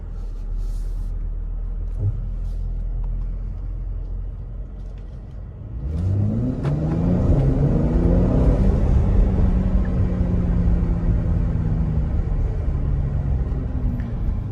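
Interior sound of a 2020 Mercedes-Benz GLC AMG Coupe: a low idle hum, then from about six seconds the engine note rises as the car pulls away and accelerates steadily, muffled inside the cabin with no talk.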